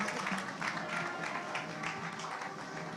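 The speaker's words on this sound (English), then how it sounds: "This is a round of applause for the Women's Cup." An audience at the 1XCUP 2024 final group draw applauds the Women's Cup with moderately quiet, steady clapping and crowd noise, blended with sustained tonal music from a band.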